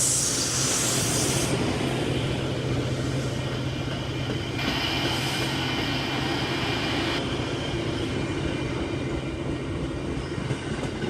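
A train rolls steadily past on railroad tracks, a loud continuous rumble and rattle of wagons with a hissing, broadband wash layered over the low drone throughout.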